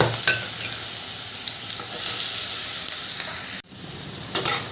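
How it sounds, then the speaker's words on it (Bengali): Thinly sliced pointed gourd fries in oil while being tossed and stirred, a loud continuous sizzle with scraping strokes; the hiss briefly drops out near the end, then resumes. "এবার পটলগুলো ভালো করে ভাজতে হবে তেলের মধ্যে নাড়াচাড়া করে ভালো করে ভেজে নেব"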